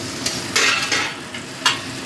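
Pumpkin pieces sizzle in a frying pan while being stirred, several scraping strokes cutting through the steady frying hiss close by.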